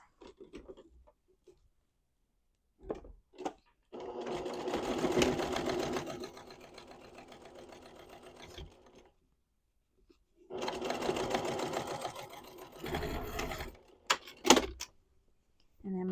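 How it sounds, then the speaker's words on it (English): A sewing machine stitches a seam on a fabric tote bag in two long bursts of rapid, even mechanical chatter, separated by quiet pauses and short bits of handling noise. "Now we're going to stitch this again at 3/8 of an inch away from this edge to enclose"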